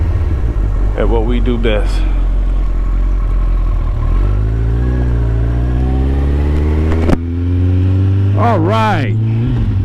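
A 2015 Kawasaki ZX14r motorcycle idles loud and close, then its engine revs in rising and falling sweeps, with a sharp blip and another series of quick throttle revs, while someone talks over it.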